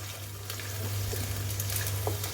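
Ground tomato frying with onions in a pan, a steady close sizzle with scattered light crackles and a low continuous hum beneath, no talking.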